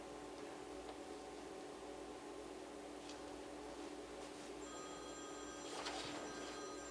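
A telephone rings faintly during a county commission meeting, its electronic tone appearing late over a steady background hiss.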